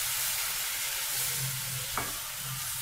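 Halwa made from motichoor laddu and milk cooks slowly over low heat while being stirred, a steady, close sizzling hiss with soft scraping strokes and one brief knock near the end.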